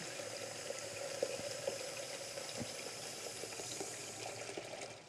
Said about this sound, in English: And you're going to get some water in here.